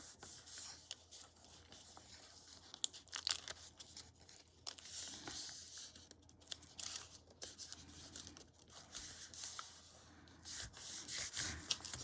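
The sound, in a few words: bone folder rubbing along a paper bag fold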